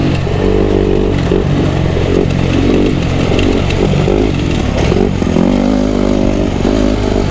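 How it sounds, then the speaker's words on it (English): Kawasaki KX250 two-stroke motocross bike with a short-stroke, high-compression engine, revving hard and crackling, its loud raspy pitch rising and falling through repeated throttle blips close to the microphone. "It's that motocross pulse, that big crack, that short stroke and cracker from a super high compression motor."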